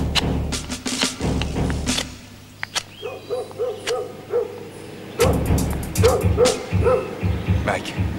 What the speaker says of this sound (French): le chien a trouvé notre piste.